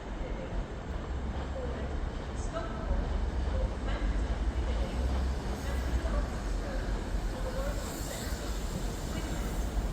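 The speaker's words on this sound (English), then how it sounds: "This Class 195 should form the service to Lincoln." A Class 195 diesel train rumbling into a South Yorkshire station with low engine drone and faint wheel squeal, steady and moderately distant, with some speech in the background.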